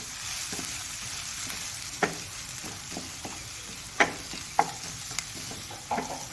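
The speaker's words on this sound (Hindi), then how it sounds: "हल्का सा बस इसको ब्राउन करेंगे प्याज को" Onions fry gently on a low flame for a kachori filling, a soft steady sizzle broken by several sharp scraping stirs of a spoon in the pan.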